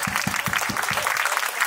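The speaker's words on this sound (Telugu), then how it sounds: "అందరూ గట్టిగా చప్పట్లు కొట్టాలి రాజు ఫాదర్కి" An audience claps steadily for Father Raju at a church feast of the Nativity of the Child Jesus, a dense, sustained wash of hands with a few heavier low thumps running through it.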